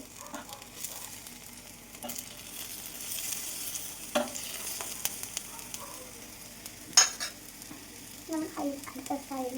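Banana slices fry in ghee with a soft, steady sizzle, and a spatula scrapes and clicks now and then as the pieces are turned over, with a sharper tap near the middle.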